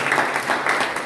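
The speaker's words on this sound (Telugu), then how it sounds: "చప్పట్లు కొడుతూ ప్రభువుని" Rhythmic group hand clapping at a religious worship gathering praising the Lord, steady repeated bursts of moderate loudness filling the moment without clear speech.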